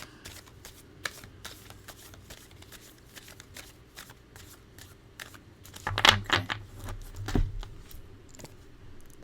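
A deck of tarot cards is shuffled close up in several quick riffling bursts, the loudest pair coming near the end.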